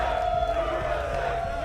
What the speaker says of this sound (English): We'll let them have their chant.